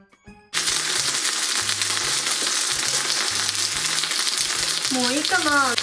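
Steady crackling sizzle of gyoza frying in a hot pan, close and continuous, with a few low clunks and a brief voice near the end.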